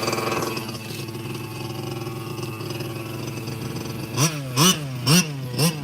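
A Team Losi RC truck engine buzzes at a steady high idle, then gives four quick rising revs in a row near the end, loud and close.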